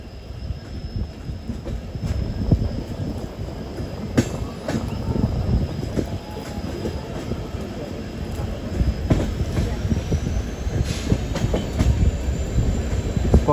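A train hauled by a triple diesel locomotive set pulls out on a monsoon mountain route, with a low continuous rumble, intermittent wheel squeals and clatter, moderately loud and steady throughout.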